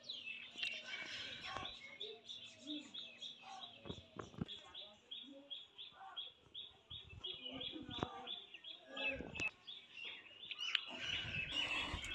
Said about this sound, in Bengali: এই যে পাখিগুলো কিচকিচ করে ডাকছে,